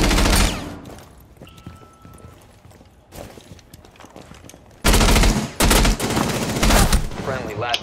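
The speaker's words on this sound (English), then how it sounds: "I shot the metal cabinet like 7 times" Gunfire from a Rainbow Six Siege match strikes a metal cabinet, loud broadband bursts of shots at the start and again in dense clusters near the end, with quieter rattling game ambience between.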